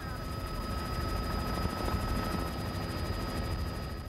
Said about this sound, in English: And just downstream from Schertz, a DPS helicopter appears.